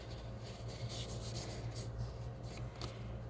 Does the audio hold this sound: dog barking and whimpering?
no